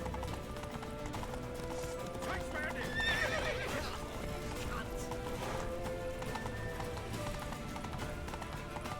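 In a video game, a horse gallops with steady clip-clop hoofbeats and neighs midway, mixed with loud action sounds and people talking over it.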